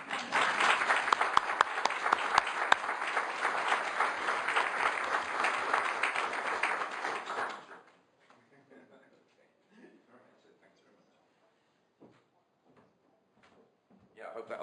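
An audience at a science award citation and medal lecture applauds warmly for about eight seconds, then the clapping stops abruptly into near silence with a few faint knocks and rustles.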